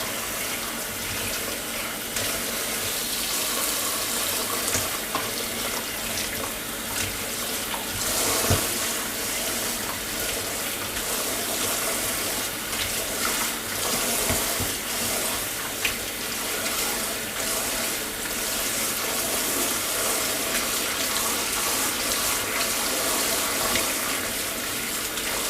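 Tap water runs in a steady loud stream into a sink while produce is rinsed, a continuous broadband splash with small fluctuations from hands moving under the flow, lasting throughout with no talk.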